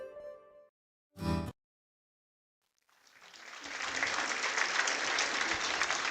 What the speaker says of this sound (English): You hear those applause in the background as the runner able to get up and walk off the field.